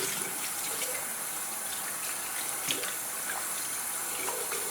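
Water runs steadily from a tap to rinse off a gel face mask, a close, even hiss of flowing water with no pauses and no talking.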